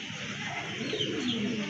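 Cooing of a large local desi pigeon at a breeder's farm, a soft low murmuring call that carries steadily through the whole short stretch with no talk over it.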